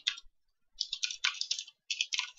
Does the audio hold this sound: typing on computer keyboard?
yes